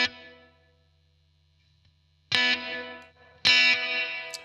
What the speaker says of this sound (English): you can hear it a lot more with the reverb control turned right up